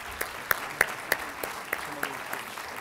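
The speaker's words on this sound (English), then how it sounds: "Let's give Allie a big round of applause, please." Applause for a graduating student named Allie at a college graduate salute ceremony, sparse and fairly faint, with a handful of distinct sharper claps standing out over a soft background patter.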